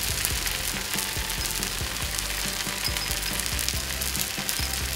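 Tomatoes and onions fry on low gas in a pan, a dense, even sizzle with a faint crackle running throughout, close and steady, and no one speaking.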